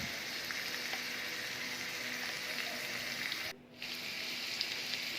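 Jackfruit seed curry stir-fries in a pan with a steady, close sizzle and crackle that cuts out for a moment near the end, then resumes.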